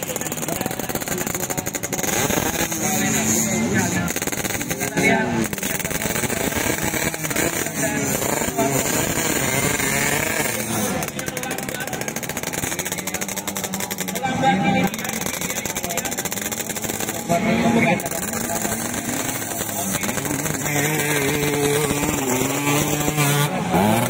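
Stock underbone motorcycles race on a motocross circuit at Tanjung, Makassar, South Sulawesi, their engines droning and revving continuously, loud and near, as bikes pass through corners with crowd voices mixed in.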